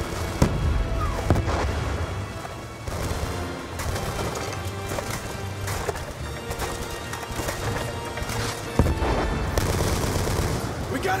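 Video game gunfire from Call of Duty: Black Ops 2 crackles in dense, continuous bursts of rifle and automatic fire, loud and sustained throughout, with shouted voices in the battle mix.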